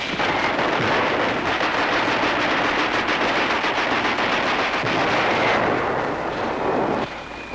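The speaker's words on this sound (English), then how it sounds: "Rifles, machine guns, and bazookas do the job" Dense WWII battlefield gunfire from rifles, machine guns and bazookas as a platoon clears out snipers, a continuous loud roar of overlapping shots and bursts with heavy rumbling booms, no voices.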